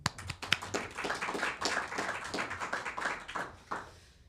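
Scattered applause from a small audience at a press briefing, a few people clapping unevenly for about four seconds, close and moderately loud, with faint voices underneath before it fades out.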